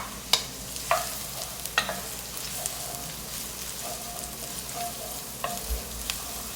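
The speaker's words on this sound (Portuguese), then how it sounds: "fritando a cebola" Onion frying in olive oil in a pan for black rice with squid, a steady soft sizzle with a few sharp clicks and scrapes of stirring spread across the clip, close and fairly quiet.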